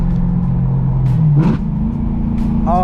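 A BMW E92 M3 with a loud exhaust drops a gear, its engine note falling and then rising in a sharp rev blip amid a steady loud rumble, heard from inside during a canyon drive.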